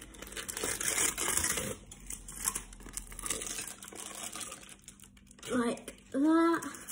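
Crinkly tearing and rustling of paper being peeled off the side of a chocolate Mars bar cake, close and fairly soft, followed by a brief voice at the end.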